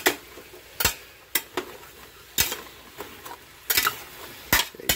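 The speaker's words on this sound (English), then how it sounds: "Now we're gonna stir this around and cook it for about another 2 minutes" Keto gumbo ingredients being stirred in a pot, with a utensil scraping and clacking against the pot in irregular sharp strikes over a quiet background, close and fairly distinct.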